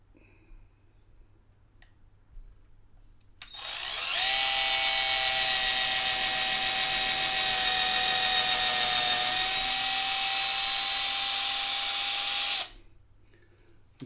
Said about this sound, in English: I need to drill a hole through the middle. I'm gonna do a pilot hole to start with.